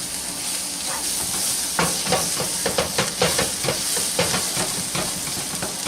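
Unbleached all-purpose flour is worked into a hot pan of onions and chicken with portabella mushrooms, giving a steady hiss and sizzle broken by quick, repeated scraping clicks of stirring.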